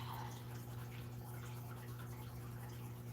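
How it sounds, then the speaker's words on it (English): An aquarium fish tank with low water gives off a steady hum with faint trickling and dripping water, constant and fairly quiet, with no talk. "I do apologize for how loud the fish tank is"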